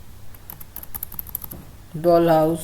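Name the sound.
typing a search on a computer keyboard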